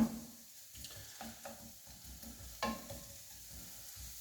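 Onion softening in a frying pan gives a quiet, low sizzle with a few soft knocks and scrapes of a utensil, faint and without voices.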